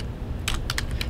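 A computer keyboard is typed on up close while a web address is entered: a short quick burst of clicking keystrokes over a low background hum, with no one talking.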